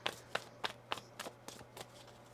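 Tarot cards riffle and slap together in a brisk shuffle, about eight close crisp bursts in even rhythm over a faint steady hum.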